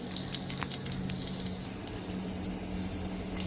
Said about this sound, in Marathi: लसूण जरा आपण तळसायला देऊया